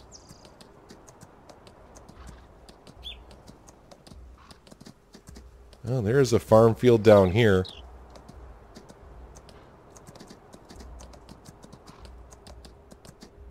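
Horse trotting in Farming Simulator 19, a steady faint clip-clop of hooves running under a brief stretch of spoken commentary.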